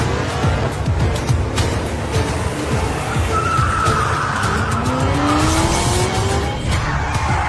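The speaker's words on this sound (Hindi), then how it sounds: "मिस्टर जीत की ड्राइविंग और बेहतर होती जा रही है।" Race car engine roaring and tires squealing as the car is driven hard, a steady loud drone with skidding screeches running through it, no talk.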